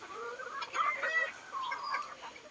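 Small pure labuyo jungle fowl and farm chickens clucking in a chorus of short, close calls with a few higher squawks, steady throughout.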